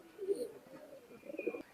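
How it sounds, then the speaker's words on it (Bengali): Pakistani teddy pigeons coo close by in two soft, low bursts separated by a short pause, with no talking. "মাশাআল্লাহ কোয়ালিটিফুল দুইটা কবুতর"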